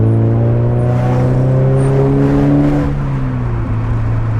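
Subaru BRZ engine pulling hard through town, a loud, close rev that climbs and then eases off in a smooth accelerating sweep, no voices.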